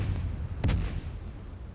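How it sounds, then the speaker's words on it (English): A single booming blast from a fire spell in the video game Ultima VIII: Pagan, a sharp burst that fades out quickly over a rumbling game background. "check it out, everything is exploding"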